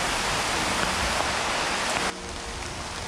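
Steady, dense rain hissing on a surface on a mountain trail, loud and continuous, easing slightly in level partway through.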